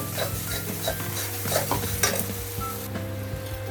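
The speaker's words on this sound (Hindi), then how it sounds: "ये भी डाल के अच्छे से लाल करके मसाला को भूनना है" Masala with ginger paste fries in a pan for khichdi made without onion or garlic, a steady close sizzle broken by scraping stirs of a spoon against the metal pan, with no talking.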